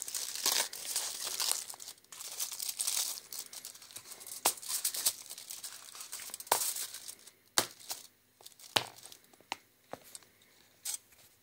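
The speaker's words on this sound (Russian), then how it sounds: "Открываем. Классическая обертка." A foil wrapper on a Millennium milk chocolate bar with almond and orange is crinkled and torn open up close, first as a dense continuous rustle, then as a few sharp crackles and snaps.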